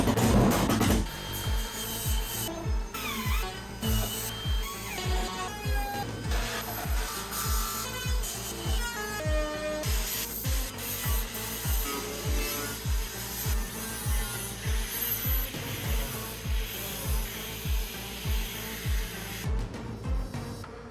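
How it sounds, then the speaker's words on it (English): Grinding on the transom of a 25ft Bertram boat gives a steady, rhythmic rasp with repeated back-and-forth strokes and faint whistling tones, continuing nonstop for about twenty seconds without speech. "Grinding time."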